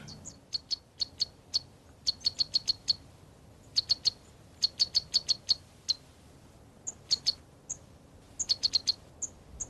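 A sunbird perched on the tall flower column of a giant lobelia in the Virunga highlands gives bursts of high, thin, rapid chirps in quick repeated series, clear and fairly close over a quiet background.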